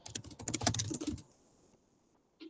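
Quick, dense run of keystrokes on a computer keyboard, close and clear for just over a second, then a quiet pause with one faint tap near the end.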